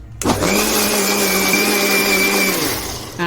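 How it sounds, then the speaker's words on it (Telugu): A mixer grinder whirs loudly and evenly for a few seconds as curry masala with a little added water is ground, starting abruptly and easing off near the end, close up with no talking. "మిక్సీ పట్టుకుందాం."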